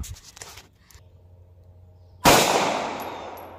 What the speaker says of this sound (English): then we'll take a shot with the Glock